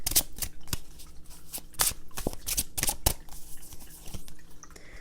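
Tarot cards are shuffled nearby in a steady run of soft riffles and sharp snapping slaps, with brief louder flicks through a quiet background.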